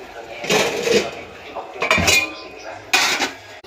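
A large bell-metal plate is handled in a home kitchen, giving a few bright metallic clinks and scrapes in separate bursts, close by and moderately loud.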